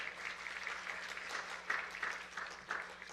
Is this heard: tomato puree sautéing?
no